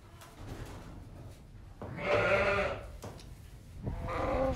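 A female sheep, a ewe on a farm, gives two loud, close bleats separated by a short pause over low background noise.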